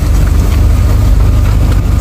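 A Volkswagen Gol G3 engine labours up a steep slope at low speed under light throttle, giving a loud, steady close-up rumble throughout.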